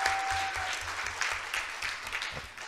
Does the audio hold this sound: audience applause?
yes